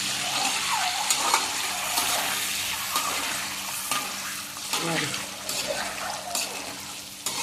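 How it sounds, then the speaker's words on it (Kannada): Egg masala frying in a pan, with a steady hissing sizzle throughout and scattered clinks and scrapes of stirring at close range. "ಹೀಗೆ ಫ್ರೈ ಮಾಡಬೇಕು ಚೆನ್ನಾಗಿ ಫ್ರೈ ಮಾಡಬೇಕು"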